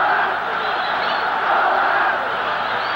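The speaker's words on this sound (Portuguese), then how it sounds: "A torcida gritando Colorado," Fans at a 1975 Brazilian league football match between Inter and Cruzeiro chant Colorado, a steady, distant roar of a packed stadium crowd with no clear break.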